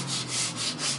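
Coarse 80 grit sandpaper scrubs old wood in steady, close back-and-forth strokes, each rasping pass rising and falling in a continuous rhythm with no voices.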